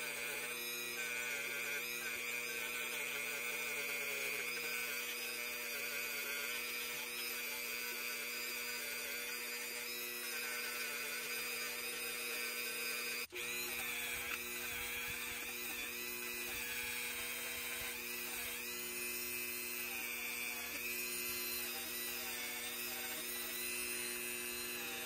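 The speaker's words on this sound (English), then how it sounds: "I'm gonna see what the wire brush is gonna do on this wood here." A wire brush scrubs the wood handle of a Case XX folding hunter knife, a steady, close, continuous abrasive whirring rasp running the whole time with no talk.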